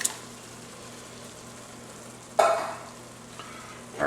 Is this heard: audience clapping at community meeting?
no